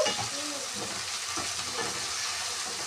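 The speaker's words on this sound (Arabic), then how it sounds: "هنشوح نقلب الثوم" Garlic and meat sauté in ghee in a pan, a faint, steady sizzling hiss with soft stirring scrapes, short and continuous.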